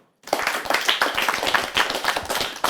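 Audience applause for young athletes at the Pradhan Mantri Rashtriya Bal Puraskar 2019 ceremony, starting abruptly after a brief silence, then brisk, even clapping close and fairly loud with no talk.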